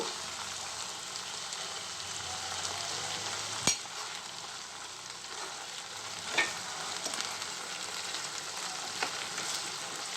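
Tomato pieces fry steadily in a pan for an Andhra-style chicken curry, giving an even, continuous sizzle with a few sharp clicks and stirring knocks scattered through it, close by and with no talking.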